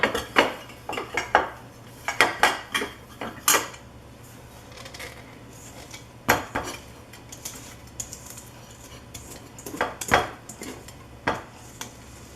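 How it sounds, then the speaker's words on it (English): Metal 8 by 13 baking pan greased with a little avocado oil, giving close, irregular clanks and scrapes of pan and utensil in short bursts with quiet gaps between. "I'll just put a teeny bit of avocado oil on the bottom of my pan."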